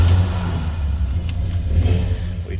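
A 1964 Pontiac LeMans convertible engine runs with a steady, deep low rumble that swells slightly at times, close and continuous with no voices.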